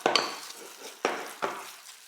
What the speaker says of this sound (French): on va venir fouetter un petit peu énergiquement afin que tout se mélange